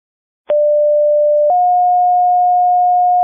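A roleplay fire-dispatch Station 1 stack tone: after brief silence, one clean sustained electronic tone sounds, then steps up to a slightly higher pitch that holds steady and loud to the end.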